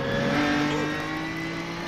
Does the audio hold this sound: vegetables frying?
no